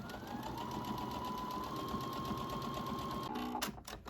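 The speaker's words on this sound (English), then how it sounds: "We're going to top stitch around the edge now" Sewing machine running steadily while top stitching 1/8 inch from the fabric edge of a baby clutch, a continuous even whir that stops near the end with a couple of brief clicks.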